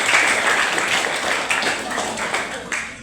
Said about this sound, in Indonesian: Ya, tepuk tangan untuk beliau